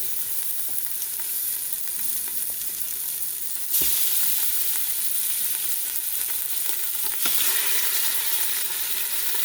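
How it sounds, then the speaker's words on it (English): Steady, loud sizzling of boneless beef short ribs searing in very hot oil in a Ninja Foodi on high, a constant crackling hiss that jumps louder partway through as more meat goes in. "So the oil is very hot. You'll hear it sizzle."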